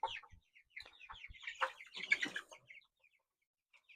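Chickens inside a chicken tractor cluck softly in short, scattered bursts with brief squawks, close by but faint, fading to near silence at the end.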